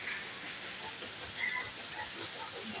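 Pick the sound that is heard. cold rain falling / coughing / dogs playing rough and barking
cold rain falling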